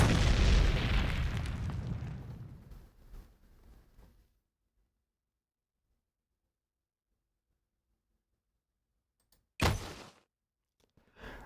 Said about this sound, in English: the sound of an explosion rings in my ear